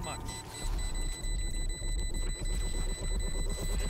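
Repeated electronic beeping of a planted spike in a Valorant match, steady tones sounding over loud continuous game noise and player voices talking throughout.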